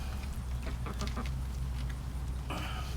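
A chicken clucks faintly in a backyard flock kept for fresh meat and eggs, with a few short calls over a steady low hum.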